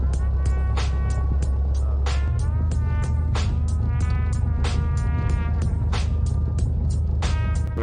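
Piper PA28-141 Warrior single-engine aircraft idling on the ground with power gently raised for taxi, a steady close droning hum with a low throb, faint radio voices and clicks.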